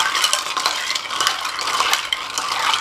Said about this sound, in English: I'm going to just stir my drink together